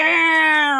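A human voice imitates a mean cat with one short, whiny, strained meow-like yowl, held briefly and close.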